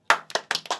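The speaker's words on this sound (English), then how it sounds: "Clap." A small group claps in a few loose, separate bursts, about four or five sharp slaps close by, each quickly fading, with short silences between them.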